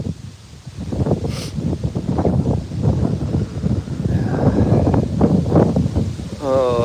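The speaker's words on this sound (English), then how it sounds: "And it's very windy." Strong wind blowing outdoors on a cold day, a steady broadband rush with gusty swells that runs the whole time, close and loud on the microphone, with a person talking over it.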